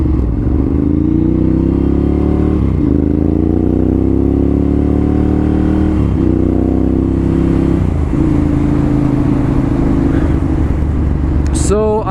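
A Ducati Monster motorcycle engine drones loudly and steadily with several gear shifts, the exhaust note booming and echoing inside a tunnel.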